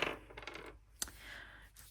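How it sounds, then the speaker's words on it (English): Dice rolled during a board game, a brief clatter and a sharp tumbling click followed by a light rattle settling, close and quiet with no talking. "I'm just going to roll 1 dice at a time, and we're going to go around the board"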